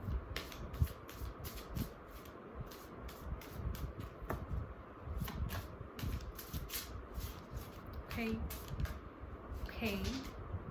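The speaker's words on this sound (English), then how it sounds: "Let's begin shuffling the cards." Tarot cards being shuffled by hand, a run of soft, quick riffling flutters and taps close by, repeating through the stretch with a faint background hum and brief vocal sounds.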